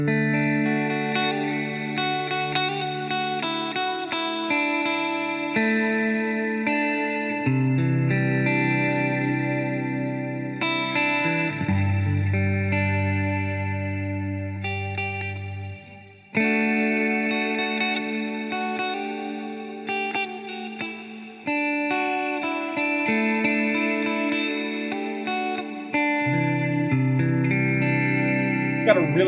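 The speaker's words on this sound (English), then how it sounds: "Valhalla Supermassive. This is a free plugin you can find at valhalladsp.com" Free Valhalla Supermassive reverb plugin adding a lush, shimmering sparkle to sustained synth chords, a continuous wash of tones that shift every few seconds, with no talking.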